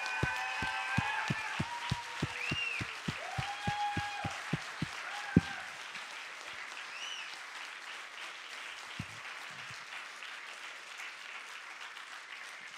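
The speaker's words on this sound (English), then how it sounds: "slap those hands together and cheer as loud as you can for Heather" An audience claps and cheers for Heather, starting with loud, rhythmic unison claps that build into dense applause with whoops, then fading to a lighter, scattered patter by the end.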